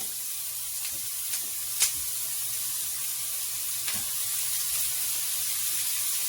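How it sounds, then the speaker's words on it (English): Vegetables sauté in a hot pan with a steady, soft sizzling hiss, broken by a few faint clicks and one sharper tick of utensil against pan. "We're just going to continue to saute this, and once it gets nice and brown"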